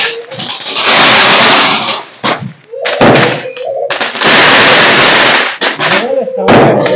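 Loud, close firecrackers go off in rapid crackling barrages, two long bursts broken by brief pauses, with voices between the blasts.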